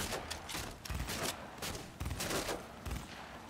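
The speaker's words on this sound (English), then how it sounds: "Oh shit. I am taking fire." Rapid automatic gunfire from the video game Cyberpunk 2077 sounds in quick overlapping bursts, steady and fairly close, with no talking over it.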